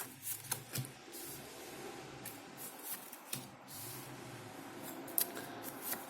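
Quiet papery shuffling and light snaps as tarot cards are handled and laid down, soft and close, with no voices.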